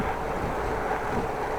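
Steady wind rushes and buffets against the microphone during a windy afternoon bike ride in the Netherlands, a constant broad roar with no pauses.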